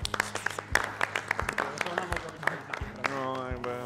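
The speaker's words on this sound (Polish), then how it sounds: "wielkie brawa" A studio audience applauds during a game show, with scattered, fairly quiet claps mixed with voices and crowd noise.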